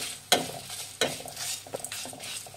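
Four Byadagi chillies frying in a pan while being stirred: sharp scraping clanks of a spatula, two of them loud, over a soft continuous sizzle, close up and without talk.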